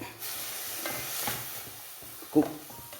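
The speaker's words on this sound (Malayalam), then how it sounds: "ഒന്ന് ഇളക്കിയിട്ട് കൊടുക്കാം എന്നിട്ട് തട്ടിപ്പൊത്തി മൂടി വെച്ച് വേവിക്കാം" Radish thoran being stirred in a pan with soft scraping strokes over a gentle sizzle, one sharper clack near the end.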